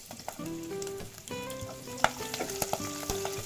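Garlic sautéing in a pan, a soft fry under tonal background hum with several sharp clinks and taps of the utensil against the pan.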